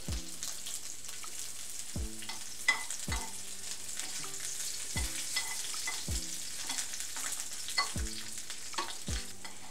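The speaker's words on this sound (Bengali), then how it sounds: "এই রসুনগুলোও ভাজবো।" Garlic cloves and a dried red chili fry in a frying pan under a steady soft hiss of oil, with a spatula scraping the pan roughly once every second.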